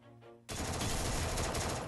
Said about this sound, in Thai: เขายิงขู่ด้วยนะ